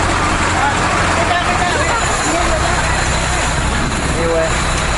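A bus moves through floodwater on a flooded Bangkok street, giving a steady low engine rumble with broad wash and traffic noise throughout, while voices babble in the background.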